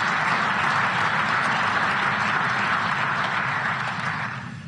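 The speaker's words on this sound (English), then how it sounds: "I hope that's not the last bit of applause that I get" An audience at the Munich Security Conference applauds in a thick, even patter of many hands that carries on steadily, then begins to fade in the last second.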